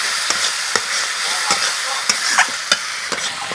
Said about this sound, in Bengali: এবার সব কিছু ভালো করে তেলের সাথে মেরে নেব।